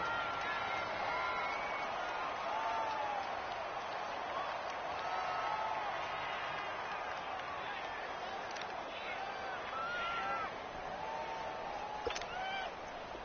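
Steady crowd roar fills an indoor domed stadium in New Orleans during an Eagles football game in a PS4 video game, a continuous dense wash of cheering with a few swelling calls, constant in level throughout.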